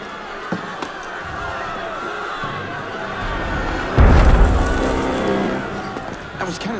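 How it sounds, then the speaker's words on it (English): A heavy booming blast of cannon fire in the video game Assassin's Creed Unity erupts midway, loud and low, rumbling over a muffled background with scattered thuds before it. "That was cannon fire."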